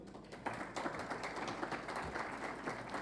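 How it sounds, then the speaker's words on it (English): An audience at an Azerbaijani conference on the environmental impact of mines gives a brief round of applause for a panelist, soft and fairly distant, with dense steady clapping throughout. "with a round of applause, please."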